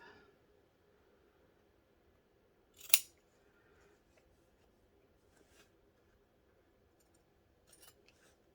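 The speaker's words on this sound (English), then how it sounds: "I trim off the corners and any little bit of excess that I might have" Scissors make a single crisp snip trimming fabric corners of a small lip balm pouch. It is close and brief in a quiet room, followed by a few faint rustles and a couple of softer snips.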